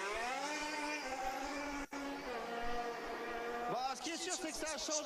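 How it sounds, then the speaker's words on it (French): A 2026 Formula 1 car's engine howls at the Catalunya circuit during first practice, a steady high-pitched rising and falling whine with a quick gearshift, heard at a distance under continuous commentary talk. "Ah, ce hurlement du moteur!"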